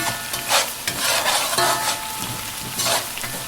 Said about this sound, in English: You see our butter is melting.